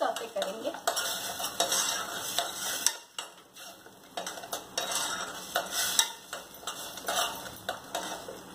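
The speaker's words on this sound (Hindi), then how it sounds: "सारी ग्रेवी हम इसमें हल्की आंच पे थोड़ा सौते करेंगे" Sweet corn gravy sautéing over low heat in a pan while a spoon scrapes and stirs it, with repeated clinks and scrapes of utensil on metal and a soft sizzle running steadily underneath.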